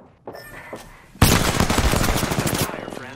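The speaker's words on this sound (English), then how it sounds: "They're shooting at me?" Sustained video game gunfire from a first-person shooter erupts suddenly after brief quiet, a dense loud burst of rapid shots that continues steadily, with faint voices beforehand.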